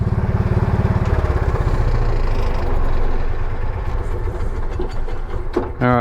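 A vintage 1980s UTV engine chugs loudly at first, then its steady pulsing fades into a rougher, uneven rumble, ending with a short high squeal.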